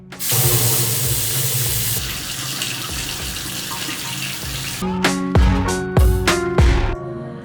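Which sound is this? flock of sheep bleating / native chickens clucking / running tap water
running tap water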